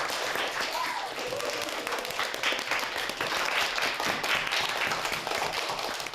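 Students in a children's software and robot class applaud one another, a loud, steady, dense clapping that fills the room evenly for about six seconds.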